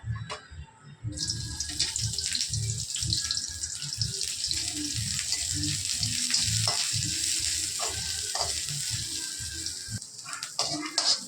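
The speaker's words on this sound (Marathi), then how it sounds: "आता टाकत आहोत कांदा" Chopped onion sizzling in hot oil in a pan, added after capsicum has been sautéed, a steady close frying hiss with soft stirring scrapes throughout, no voices.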